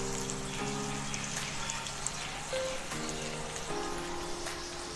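Moong dal sautéing in oil with chilli and garlic for a Maharashtrian dill greens dish, a soft steady crackling sizzle like light rain, with faint tonal hums from a nearby appliance running underneath.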